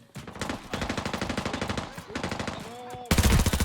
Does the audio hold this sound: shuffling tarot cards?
no